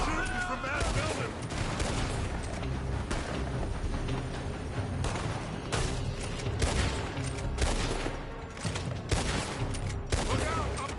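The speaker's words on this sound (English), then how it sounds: "They're shooting from that building." Heavy sustained gunfire in Red Dead Redemption 2 as shooters fire from a building: dense overlapping rifle and pistol shots crack continuously, loud and close, with voices shouting underneath.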